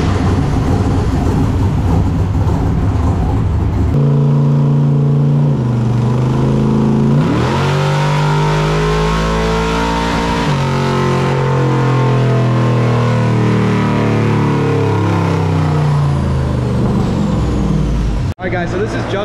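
A 632ci big block Chevy Nova with a custom exhaust roars on a dyno, very loud and close, its pitch sweeping up steadily through a long rev before cutting off abruptly near the end.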